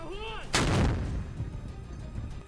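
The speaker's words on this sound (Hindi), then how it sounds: "वहां पहले दूरबीन से निशाने को देखा गया और फिर रॉकेट को लोड करके दाग दिया गया।" A rocket launcher fires a rocket in a combat zone near Mariupol, one loud booming blast that rolls off into a long rumbling echo, with a brief whine just before it.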